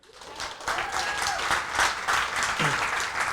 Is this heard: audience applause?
yes